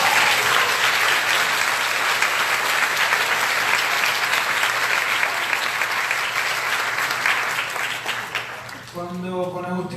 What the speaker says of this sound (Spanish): Nelly Cuadros, así que un aplauso a la